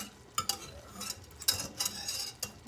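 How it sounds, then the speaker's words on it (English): German chocolate cake icing at a rolling boil on the stove, with a spoon clicking and scraping against the pot in several light, irregular taps over a faint bubbling hiss, quiet and close, with no talking. "I've got a good boil here"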